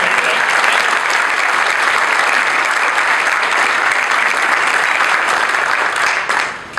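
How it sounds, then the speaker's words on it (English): A large audience at an Honor Flight event for veterans in central Illinois breaks into loud, dense applause, a continuous roar of many hands that fades slightly near the end. "So one more round of applause."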